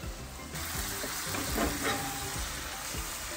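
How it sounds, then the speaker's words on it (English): Lamb sizzling directly over open flames on a Pit Boss Sportsman 3-burner grill, a steady close crackling hiss that swells briefly midway. "I will just grill my meat directly over the flames."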